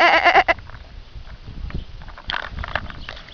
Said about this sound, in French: Regardez des chèvres.